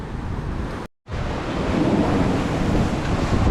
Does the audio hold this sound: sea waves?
yes